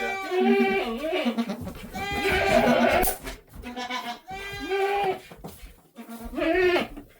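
A goat bleats repeatedly, loud and close, with long wavering cries separated by short pauses.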